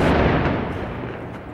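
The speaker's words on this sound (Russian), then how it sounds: "Боевики ударили по нему из РПГ." A heavy, booming blast as an RPG round hits a tank, rumbling and slowly decaying over a second or so, loud and dense with low-end roar.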